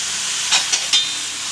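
Tuna tail and bones hissing as they drop into a pot of sinigang, a steady steamy hiss with three short sharper sizzling bursts, close and fairly loud, no talking.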